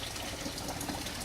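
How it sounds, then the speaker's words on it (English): Coolant water gushing out of a disconnected radiator hose on a 2000 Ford F350 with the 7.3 PowerStroke diesel, a steady close splashing pour without pause. "I was starting to wonder where all the water was in my truck, because not much seemed to come out, but now there it all goes"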